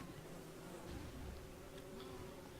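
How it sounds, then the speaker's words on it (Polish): Buzzing bees from the game Don't Starve Together, fighting in a steady, dense insect drone that fills the whole moment at moderate level, with no talk over it. "A to jeszcze się biją chyba te pszczoły z tymi."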